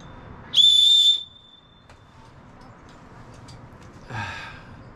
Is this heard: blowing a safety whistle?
yes